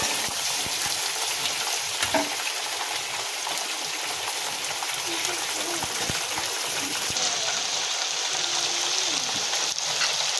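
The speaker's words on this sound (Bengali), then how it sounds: "পেঁয়াজটা ভাজা ভাজা হয়ে গেছে" Onions fry in oil in a home kitchen pan, salted and stirred until browned, giving a steady crackling sizzle that runs unbroken with a few scrape and stir knocks and no voices.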